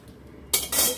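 Lid set down on a cooking pot of simmering vegetable curry, a short metallic clatter followed by a brief rattle, close and fairly quiet.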